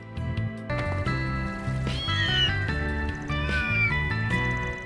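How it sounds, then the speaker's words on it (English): Stray cats meow in an Old Town alley of the video game Trails Through Daybreak, a few short cries rising over steady, looping background music. "We got a lot of stray cats here in Old Town"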